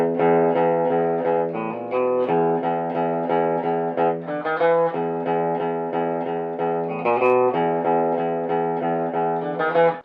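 Guitar strumming a riff in steady straight eighth notes, a continuous close and loud rhythmic pattern of sustained harmonic chords with no talking.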